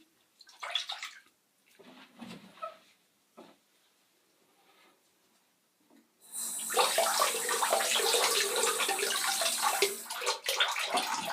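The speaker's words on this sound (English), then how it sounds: "when you're rinsing the blade, always hold the blade down that way so the water is running away from the pivot pin" A straight razor blade is rinsed under a running tap after shaving with Proraso Red lather; a few faint splashes and clinks lead into a loud, steady rush of water that fills the second half.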